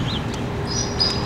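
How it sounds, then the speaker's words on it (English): Bald eagles at a zoo give brief, thin high squeaks, faint and distant over a steady outdoor rumble. "Bald eagles. And they're squeaking."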